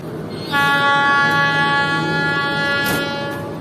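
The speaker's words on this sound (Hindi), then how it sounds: "हमारी ट्रेन ने भी अपना फर्स्ट डिपार्टिंग विसल दे दिया है" A loud, sustained train whistle from a departing Fareed Express train at Bahawalpur station starts half a second in and holds for about three seconds over a low rumble.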